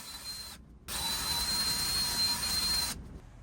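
A drill spins scuff pads against jetski engine valves to clean rust and carbon off them. It gives a short burst, then a sustained whirring grind of about two seconds, close and loud.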